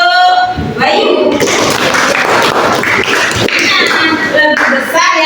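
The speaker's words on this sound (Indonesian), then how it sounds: "Tepuk tangan untuk Bayu." Schoolchildren clap for a classmate in a primary school classroom, a brisk burst of close applause with young voices chattering and calling out around it.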